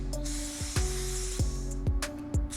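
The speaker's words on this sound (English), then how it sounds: "seems like it's spraying okay." A paint spray gun sprays in short bursts, each hiss starting with a sharp onset and repeating about five times at close range, loud and clear with no talk.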